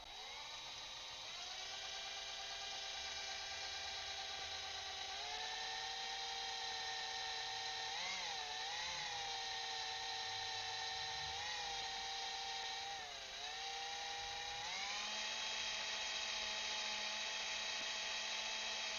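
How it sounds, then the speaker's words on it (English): A power drill spins a tiny drill bit in a continuous high, whining drone that holds close and loud. The pitch dips and wavers several times as the bit bites into the workpiece, with no voices over it. "It's such a tiny drill bit, we gotta make sure we're super straight on or we'll break the drill bit."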